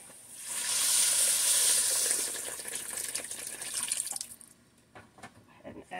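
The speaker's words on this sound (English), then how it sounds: "Now I'm going to add my 6 cups of water" Six cups of water pour into a soup pot for dill pickle soup in a loud, hissing splash that swells for the first couple of seconds, then thins to scattered drips and light clinks.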